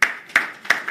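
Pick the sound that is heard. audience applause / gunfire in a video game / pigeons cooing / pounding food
audience applause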